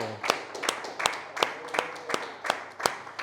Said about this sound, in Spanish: Dan un fuerte aplauso.